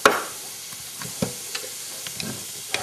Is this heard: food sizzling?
yes